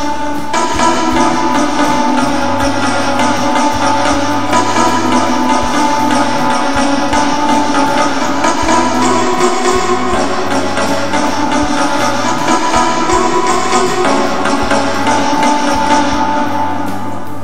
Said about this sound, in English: This is the sound of pizzicatos.